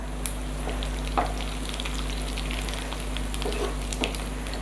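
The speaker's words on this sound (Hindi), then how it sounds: "अब इसमें ज़ीरा डाल देंगे, कड़ी पत्ता, बेर मिर्च को थोड़ा फ्राई करेंगे पहले" Cumin, curry leaves and chillies fry in hot oil over browned onion for a kofta curry, giving a steady close sizzle with a few faint stirring taps.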